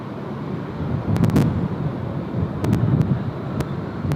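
Steady wind rushes past the microphone at an airport runway, a continuous low roar that swells and buffets in gusts, with brief faint clicks, close and loud with no voices.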